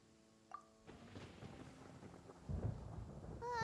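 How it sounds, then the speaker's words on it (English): In Genshin Impact, thunder rumbles through a stormy scene, with a deep rolling swell building amid rain-like noise, moderately loud and growing stronger toward the end, with a few short game tones mixed in. "Paimon hears thunder!"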